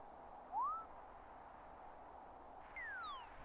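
An owl-like bird in the video game Isles of Sea and Sky gives two short synthetic hoots, a rising whistle then a falling one, set over a quiet, steady ambient hum.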